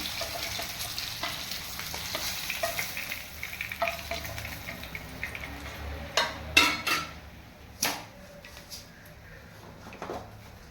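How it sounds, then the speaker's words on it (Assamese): Fish fries in a pan with a soft, steady sizzle. A few sharp clinks and scrapes of a utensil against the pan stand out toward the end. "মাছখিনি ভজা হৈ গ'ল।"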